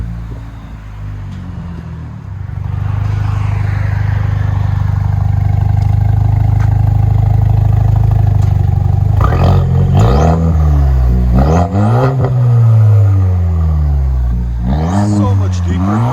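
A 2019 Chevy Silverado with a 2.7L four-cylinder engine and a Black Widow Widowmaker exhaust idles with a deep, loud drone, then is revved hard several times in sharp, rising bursts close by.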